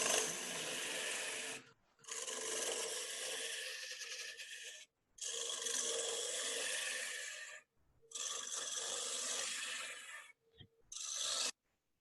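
A wood lathe hollowing wet wood gives a loud, steady rasping, scraping roar in four long bursts separated by short silences, with a brief final burst and no talking.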